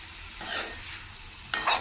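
Cabbage and moong dal are stirred in a hot pan, with a steady soft sizzle broken by two brief scraping strokes of the spatula close by.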